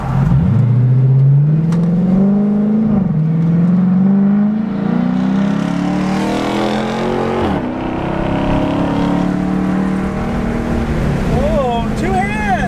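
A Dodge Charger engine revs hard and accelerates up through the gears, a loud, continuous rising drone close by with no break, and a voice briefly audible over it near the end.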